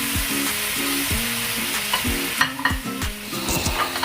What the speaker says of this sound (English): place the frying pan on the low heat and adding a few tablespoons of coconut cream